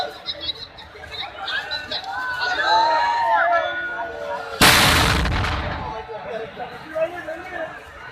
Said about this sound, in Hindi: 21 तोपों की इस सलामी परंपरा से प्रभु श्रीनाथ जी की नगरी की पहचान विश्व भर में है